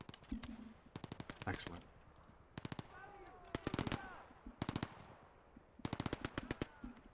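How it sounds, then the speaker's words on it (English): Enemy machine gun fire in the WWII game Gates of Hell: Ostfront, rattling out in several sharp bursts of rapid shots, with a brief spoken word over the battle. "that deranged guy with his machine gun's still alive, too"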